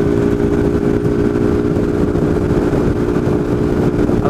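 A motorcycle riding behind a truck on the BR 267 highway gives a loud, steady engine drone, with a low rumble and constant wind noise close to the microphone, and no pauses.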